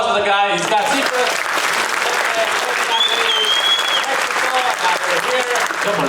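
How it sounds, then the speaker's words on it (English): Comedy club audience at a live stand-up show breaks into sustained applause with scattered cheers and whoops, loud and dense throughout, a brief voice at the very start. "give it a round of applause for the guy"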